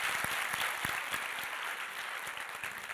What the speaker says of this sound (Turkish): Bu çocuklara kocaman bir alkış gönderelim.